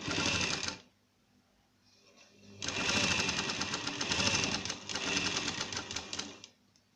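A sewing machine stitches salwar pieces together in two close, rapid, whirring bursts, a short run then a longer one after a quiet pause.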